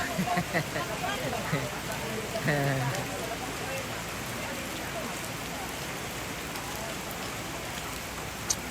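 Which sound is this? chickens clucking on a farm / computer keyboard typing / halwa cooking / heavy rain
heavy rain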